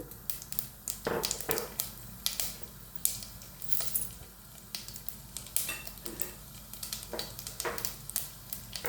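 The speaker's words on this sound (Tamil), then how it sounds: "எண்ணெய் சூடாகிட்டது அரை தேக்கரண்டி கடுகு ஒரு தேக்கரண்டி சீரகம்" Mustard seeds and cumin sizzling in hot coconut oil, with repeated sharp crackles and pops over a low frying hiss, plus occasional utensil clinks from stirring, close and fairly quiet.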